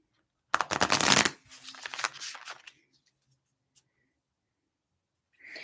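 Tarot cards shuffled in a quick, dense burst of riffling, then softer slides and taps, close by; a faint click follows and a short rustle comes at the end.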